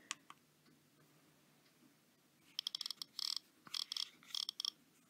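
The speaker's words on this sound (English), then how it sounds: "That's the click wheel sound on that one." Clicks from the click wheel of a fifth-generation enhanced iPod Classic made in mid-2007: a few isolated ticks, then rapid dense runs of fine clicking as the wheel is spun, close up and quiet with no speech.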